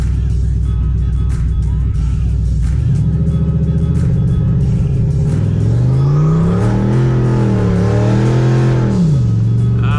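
A turbocharged SN95 Ford Mustang roars loudly and up close on a two-step launch, its engine pitch climbing and wavering as the rear tires spin, with no pause in the noise.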